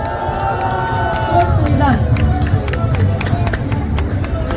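A crowd at an outdoor political rally in Daegu claps and cheers, a rumbling mix of applause and voices, while someone speaks briefly over it.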